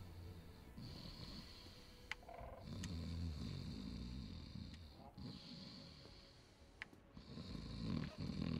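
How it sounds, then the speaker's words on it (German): Loud snoring in the video game Dark Souls: Remastered comes as deep, rumbling breaths in a slow, steady rhythm, each snore swelling and fading under a faint high whine. "Wer schnarcht hier? Und warum so laut?"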